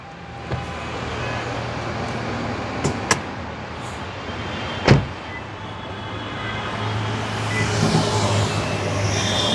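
A 1800 cc Toyota C-HR engine idles steadily at close range, with a few sharp clicks and knocks, then rises slightly toward the end.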